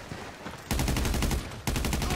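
In GTA 5, a gun fires two rapid automatic bursts, each starting abruptly and loudly. A brief lull of background noise separates them, and there is almost no talk.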